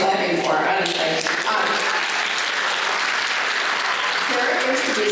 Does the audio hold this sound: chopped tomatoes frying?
no